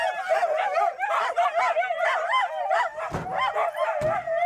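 Husky sled dogs barking and yipping together in an excited, overlapping chorus, loud and close, with a couple of sharp thumps near the end.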